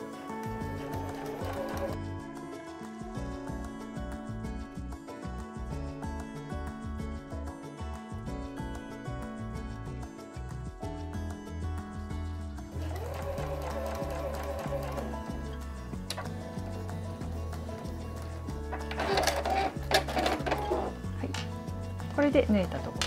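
A sewing machine stitches a fabric pouch flat after the presser foot is lowered, its mechanical run steady and continuous beneath background music.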